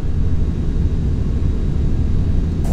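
Engine roar of a Douglas World Cruiser biplane in a flight simulator game, a steady, loud, broadband rumble as it lifts off and climbs, continuous with no voices over it.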